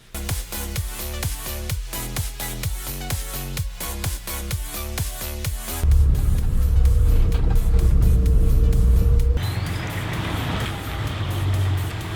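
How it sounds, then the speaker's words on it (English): A Datsun 240Z engine with poorly tuned carburetors revs unevenly near the microphone, then settles into a rough, sputtering rumble with a brief hiss, alone without talk. "The car is running pretty bad."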